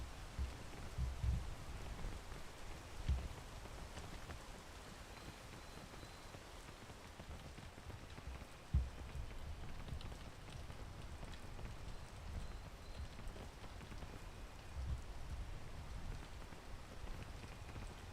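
Steady rain falls throughout a video game scene, a constant soft patter with a few faint low thumps, no talking.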